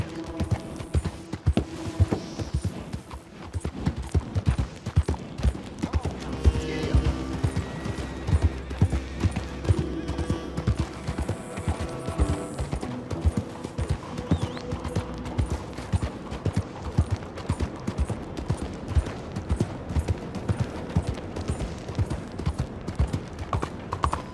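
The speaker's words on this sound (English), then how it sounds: "But I got some horses." Horses clip-clop and gallop in the open-world Western game Red Dead Redemption 2, a steady drumming of hooves under game music and scattered effects, continuing through most of the scene.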